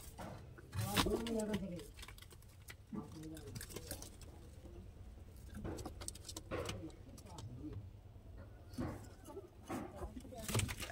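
Rampuri pigeons coo in soft, rolling bursts at close range, with wing rustles and scattered knocks between calls and a murmur of voices in the background.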